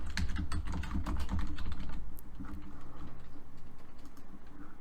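Someone types on a computer keyboard, a close run of quick, uneven key clicks that thins into sparser taps, with a low steady hum beneath and no voices.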